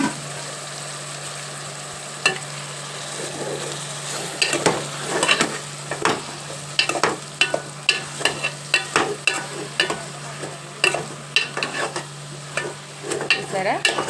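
Half a kilo of washed mutton is stirred and fried in a pan for mulankada curry, giving a steady sizzle with frequent sharp scrapes and clinks of the spoon, close and fairly loud.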